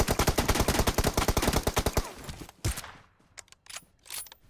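Rapid automatic gunfire in a shooting video game, a fast loud burst of shots for about two seconds, then a single heavy shot and scattered fainter clicks and mechanical sounds.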